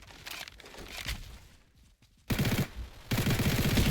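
Bursts of rapid automatic gunfire from a weapon in the shooter game Combat Arena, a quieter stretch of shots giving way to loud, dense sustained volleys near the end.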